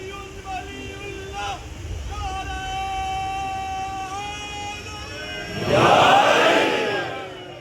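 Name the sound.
crowd chanting religious slogans at a majlis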